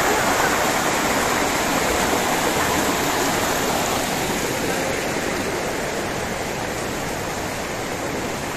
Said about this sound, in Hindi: ये वाटरफॉल का पानी।